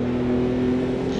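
A Ruf CRT Yellowbird race car in the driving simulator Automobilista 2 holds a loud, steady engine drone at high revs, a sustained tonal whine filling the short moment without any voice.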